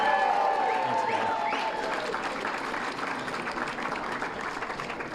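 Audience applause after a victory speech for a county commissioner race, a dense crowd clapping steadily and fairly loud, tapering slightly, with a faint voice at the start.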